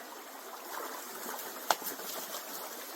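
Creek water flowing in the Willamette National Forest, heard from mid-stream as a steady, soft wash with a faint trickle and one brief knock near the middle, no voices.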